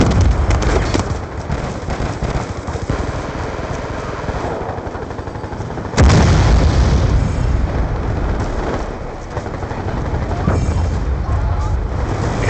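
Repeated booms and blasts from the Swarm killstreak in Black Ops 2, with dense rumbling explosions and crackling gunfire running throughout and a sharp loud impact midway.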